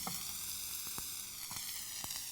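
Chopped onion sizzling in canola oil in an open pan, a steady bright hiss with a few soft crackles and pops scattered throughout, fairly close and alone.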